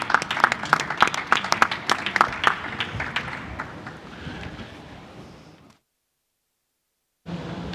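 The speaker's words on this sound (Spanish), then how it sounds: "Y un aplauso a estos ponentes e imponentes" Audience at a tourism technology forum applauding the speakers, with scattered claps fading out, then a short silence before noise resumes.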